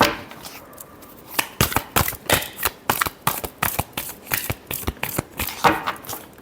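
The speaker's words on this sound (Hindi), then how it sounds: "last shuffle" A deck of tarot cards is shuffled by hand in a rapid series of crisp riffling slaps and flicks, close and fairly loud, with no talk.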